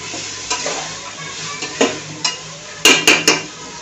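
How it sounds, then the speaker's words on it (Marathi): Ingredients for chhole bhaat sautéing in a pan, quiet sizzle broken by sharp spatula scrapes and a quick run of metallic clinks near the end, close by and without talk. "आता हे देखील परतून घ्यायचं आहे"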